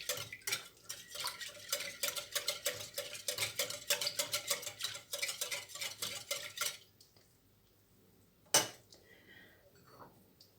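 A spoon stirs a cauliflower gratin mixture in a bowl, giving a fast run of rhythmic clinks and scrapes for several seconds. The stirring then stops, leaving quiet with one sharp knock.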